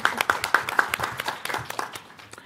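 A crowd at a board of education meeting claps steadily, the sharp hand claps overlapping into brief applause that rolls on for a couple of seconds before thinning out.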